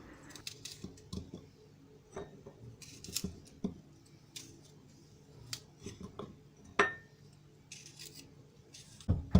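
Garlic cloves cut into small pieces are pounded in a mortar in a home kitchen, a series of irregular, sharp knocks and crunchy taps, fairly close and moderately quiet.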